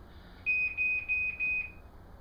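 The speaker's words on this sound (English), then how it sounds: "That's the alarm." A Ryobi tek4 motion-sensing alarm lets out a quick run of four or five sharp, piercing electronic beeps, moderately loud against quiet surroundings.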